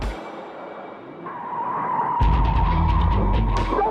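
A stolen car pulls away from police, its engine revving up sharply partway through, with a tyre squeal and skid over a low rumble, near and fairly loud.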